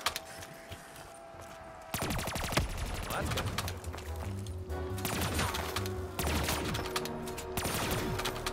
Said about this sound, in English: shoot the zombie's head off